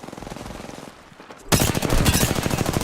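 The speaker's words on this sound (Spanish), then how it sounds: "Unos pasarotes me están disparando." Rapid automatic gunfire in a video game bursts in loud and dense, a sustained rattling fusillade that follows a quieter stretch of scattered distant shots.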